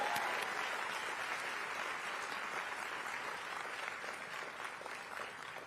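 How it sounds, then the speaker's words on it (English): A round of applause from a commencement ceremony audience, a dense wash of many hands clapping, sustained and fairly distant, slowly tapering over several seconds with no talk on top. "round of applause."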